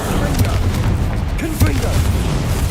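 Bombarda blasting spell explosions in Hogwarts Legacy, heavy booming bursts and pops over a constant low game rumble, with a voice shouting spell names now and then.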